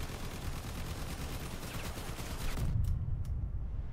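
Rapid bursts of gunfire in the vehicle combat game Crossout crackle continuously, then a couple of sharper shots ring out at the end, with no voices.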